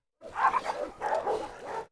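Dogs barking, several loud yelps in quick succession over about two seconds, close by with no talking.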